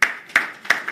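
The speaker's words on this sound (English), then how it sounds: "A round of applause for her, please" Hand claps at the launch event for a women's trade initiative: three to four sharp, close, evenly spaced claps within a second, sounding more like a single person clapping than a full room.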